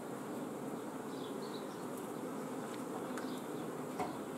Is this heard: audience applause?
no